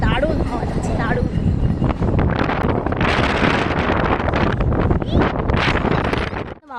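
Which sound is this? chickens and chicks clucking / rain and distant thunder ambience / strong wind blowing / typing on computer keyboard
strong wind blowing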